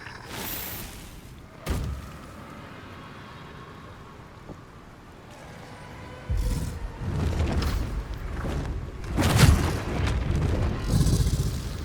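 A fire breath attack erupts in the fantasy game Baldur's Gate III, with deep rumbling booms and roaring whooshes swelling in the second half over a low windy bed, plus an earlier isolated thump.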